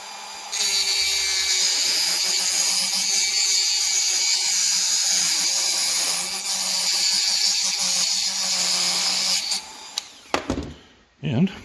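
A power tool, likely a rotary cutter, cuts straight through a metal dish with a loud, steady high-pitched whine and grinding for about ten seconds, then winds down and stops with a few clunks.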